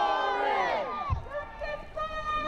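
A growing crowd of protest marchers moves down a city street, a loose mass of voices with shouts and cheering rising over steady footsteps and ambient street noise, carrying on without pause.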